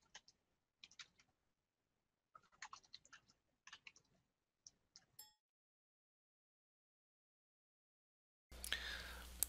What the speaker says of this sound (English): I could hear your typing